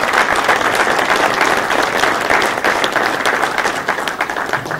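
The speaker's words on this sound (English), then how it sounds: "But one more round of applause for this wonderful team." Audience applause at a golf industry business summit for a panel, a loud, dense and steady clapping from a crowd that carries through without pause.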